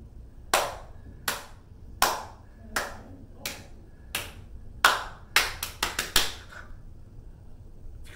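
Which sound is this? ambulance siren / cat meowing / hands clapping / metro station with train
hands clapping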